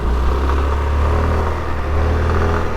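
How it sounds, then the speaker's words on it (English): An American police interceptor car drives through Tbilisi with a steady, close engine rumble that holds a deep, even drone throughout, with no voices. "And an American police interceptor."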